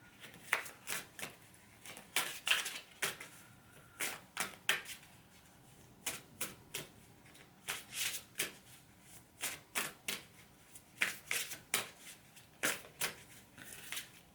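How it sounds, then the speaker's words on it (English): Tarot cards are shuffled by hand in repeated quick riffling bursts with short pauses between, close and crisp, without talk. "let's now pull a journey card"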